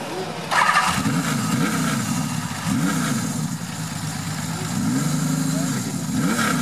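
Benelli 900 Sei motorcycle engine cranking and catching, then running with repeated rising and falling revs, loud and close, while people talk briefly.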